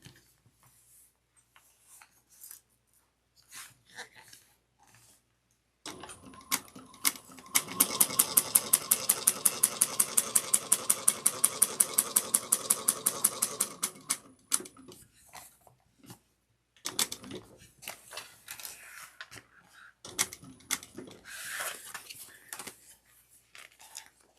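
A sewing machine bastes a seam on a tote bag, running in a fast, steady mechanical chatter for several seconds, framed by quieter handling noises and a second shorter burst of stitching.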